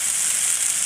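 Dried chepa shutki fish in a hot pan, with ground cumin paste, for a gourd-leaf stir-fry: a steady, loud, close sizzle hissing evenly throughout, with no speech.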